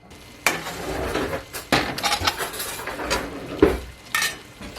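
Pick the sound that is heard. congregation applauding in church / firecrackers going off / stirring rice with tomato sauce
stirring rice with tomato sauce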